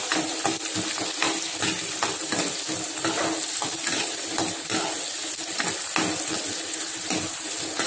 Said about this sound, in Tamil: பொரிஞ்ச உடனே வெங்காயத்தை கொட்டுங்க. நல்லா ஹையில் வச்சு வதக்குங்க.